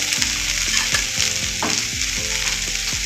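Chopped green beans frying with turmeric in a hot pan, sizzling steadily while a utensil stirs and scrapes in repeated sweeps roughly every half second, close and fairly loud with no talk.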